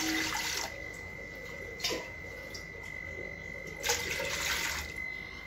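Water is measured out by the glass and poured into a cooking pot in a kitchen, with several short splashing pours over a quiet background.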